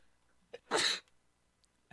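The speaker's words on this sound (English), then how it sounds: "Sneezed." A single sharp sneeze from a person playing Among Us, a short burst standing out close and loud against otherwise quiet surroundings, with no talking.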